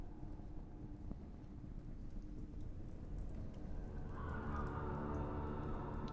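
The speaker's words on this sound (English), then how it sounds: "Rain." Steady rain falls continuously, a dense hiss of drops that swells slightly toward the end, with a faint rumble underneath and no voices.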